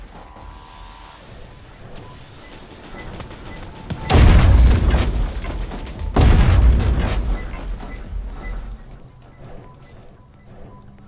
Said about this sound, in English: He can launch missiles at me, which do hurt.